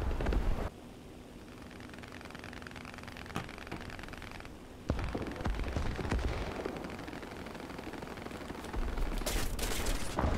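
Gunfire aimed at an enemy in the War Thunder combat game: a dense, continuous rattle of shots and blasts under a noisy battle ambience, with sharp louder cracks standing out near the start, middle and end.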